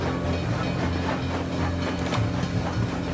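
A rickety train in World of Goo 2 rolls along with a steady rumbling clatter and rhythmic clickety-clack, loud and close throughout, with no voices.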